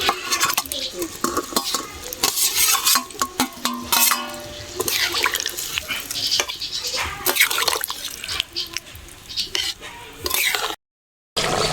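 Fried potato and papaya are tipped into a simmering goat meat curry, with a spoon clattering and scraping against the pot over a wet, bubbling stir and a soft sizzle underneath.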